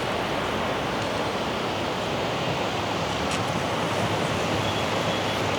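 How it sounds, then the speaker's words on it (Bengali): A waterfall plunging from a great height near Lachung in the Sikkim mountains gives a constant broadband roar, dense and unbroken throughout, with no voices. "ঝর্ণাটা পড়ছে দেখো কত উপর থেকে।"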